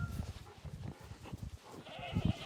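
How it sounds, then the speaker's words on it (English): Several goats in heat bleating and calling on a homestead near the hay and cow shelter, overlapping rough bleats coming in bursts close by, the loudest cry near the end. "The goats, they're calling for the boys."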